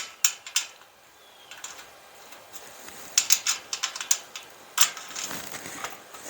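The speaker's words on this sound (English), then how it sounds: "Now we're going to put back in the 4 screws that we took out previously." Four screws going back into a Hampton Bay outdoor gas patio heater, a series of quiet sharp metallic clicks and taps in small irregular bursts against near silence.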